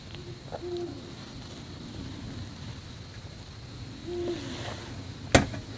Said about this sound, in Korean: 부엉이가 두 마리 있는 것 같은데? 한 마리가 말하면 대답하는 그런 소리가 들린다고 해야 되나?